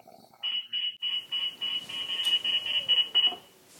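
A radar detector sounds an alert, a rapid run of shrill electronic beeps in short repeated bursts that speed up toward the end, close and clear over a quiet background.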